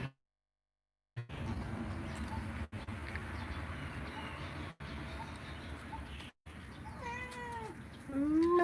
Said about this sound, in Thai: ดูลูกแมวนะคะ เล่นหยอกล้อกันแล้วก็มากินปลากระป๋องค่ะ